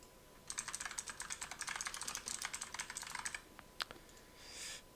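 Rapid typing on a computer keyboard during a TCP networking lab, a close burst of clicking keystrokes that stops briefly and is followed by a few final taps, with no talking.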